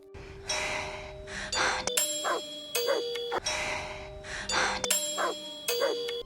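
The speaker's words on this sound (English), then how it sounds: "that's the same doorbell sound, man" A doorbell-like chime tone rings twice in a repeating pattern, mixed with breathy gasping sounds and other brief tonal effects, close and clear.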